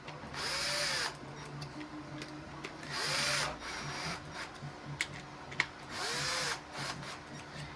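A screw is driven into a 3D-printed plastic part of a Tyco RC Rebound 4X4 in three short, close whirring power-driver bursts that rise in pitch, with quiet pauses and small clicks between them and no speech.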